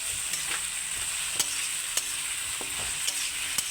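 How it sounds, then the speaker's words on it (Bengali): Potatoes, pointed gourd and ivy gourd stir-fry together in a pan with salt and turmeric, producing a steady, close hiss of frying broken by occasional light scrapes of a spatula. "আমি নুন হলুদ দিয়ে আমি এটা ভালো করে নেড়ে চেড়ে"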